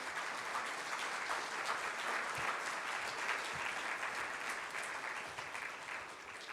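A church congregation claps during a Spanish-language sermon, dense sustained applause filling the room at moderate distance, steady throughout before tapering slightly at the end.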